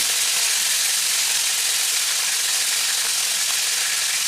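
Fish sizzles steadily in hot oil in a pan, a loud, even frying hiss with no break, close up and with no talk over it.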